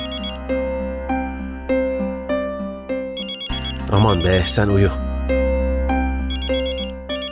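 A mobile phone ringtone plays a repeating electronic melody, loud and close, with a person briefly talking over it midway.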